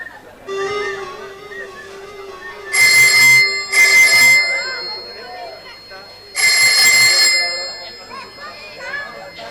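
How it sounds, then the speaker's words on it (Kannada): A telephone in a staged Kannada drama rings in bright, bell-like bursts, first a close pair and then a longer ring, while someone speaks between them. "ಫೋನ್ ರಿಂಗ್ ಆದ್ರೂ ಫೋನ್ ರಿಸೀವ್ ಮಾಡ್ತಾ ಇಲ್ವಲ್ಲ"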